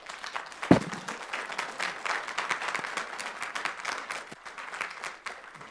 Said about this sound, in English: Folks, you can save your clapping and your jeer.